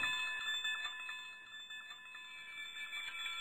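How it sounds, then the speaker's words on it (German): A school bell rings continuously with a steady metallic, high-pitched trill, fairly faint and heard alone without talk. "Eine Schulglocke."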